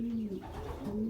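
Racing pigeons coo in a loft, a low rolling coo repeated a couple of times, close and clear, with no talk.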